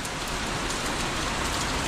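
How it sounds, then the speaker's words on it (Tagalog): Steady, dense rain pours down continuously on a farm with vegetable crops, a loud and even hiss with no pauses and no voices. "Tuloy-tuloy ang ulan."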